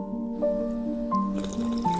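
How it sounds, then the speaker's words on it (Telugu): Cartoon elephants drinking water, heard as gentle dripping, gulping liquid sounds in a quick uneven series, close and soft over a steady musical drone, with no talk. "ఇప్పుడు ఆ నీరు ఇద్దరూ చెరిసగం తాగండి"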